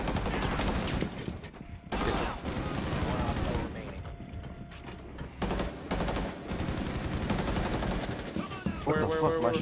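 Gunfire in the tactical shooter Rainbow Six Siege, loud rapid bursts of shots in clusters with brief gaps, while players talk over the action.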